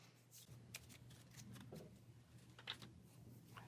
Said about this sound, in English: We will shuffle the lair.